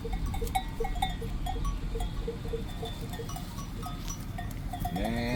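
Sheep and cows wearing bells mill about on a road, with bells clanking in a loose repeating rhythm near and far and a sheep bleating near the end.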